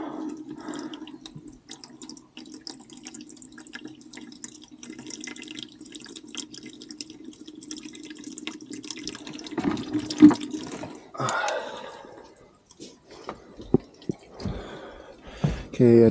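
Water drains out of a filter on a Caterpillar D2 5J crawler tractor, a steady close trickle and splash that runs for about ten seconds, then turns into scattered drips and small clanks.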